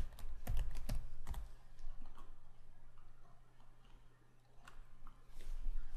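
Close, quiet typing on a computer keyboard: a quick cluster of key clicks at the start, then sparse taps over a low steady hum.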